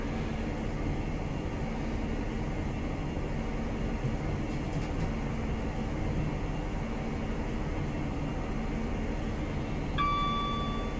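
A Class 43 HST pulls out of Bristol Temple Meads in Train Simulator Classic, giving a steady, even engine and rail rumble throughout, with a short high ding near the end.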